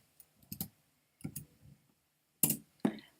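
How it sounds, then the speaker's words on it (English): Someone types a name into Gmail on a computer keyboard, a few short bursts of close key clicks separated by pauses, with two sharper, louder taps near the end. "I'll simply start to type in the name of the person I'm going to email."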